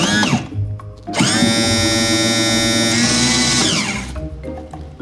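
A boat's hydraulic trim pump motor whines loudly and steadily, cutting out briefly and restarting, with its pitch shifting slightly as it labors under load.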